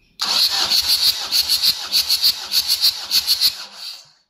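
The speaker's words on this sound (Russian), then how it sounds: "Замер холодной компрессии, первый цилиндр" A 2.5-litre Ford WLAA engine cranks over steadily during a cold compression test on cylinder one, a rapid, rhythmic whirring pulse for about four seconds, then stops; loud and close, with no voices.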